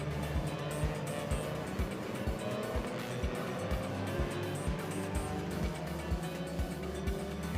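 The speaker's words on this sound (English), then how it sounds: "So cars heading around on their warm-up lap." TCR touring race cars circle the Nürburgring on a warm-up lap, engines droning steadily with repeated rhythmic pulses as cars pass, a continuous mechanical roar heard from a distance.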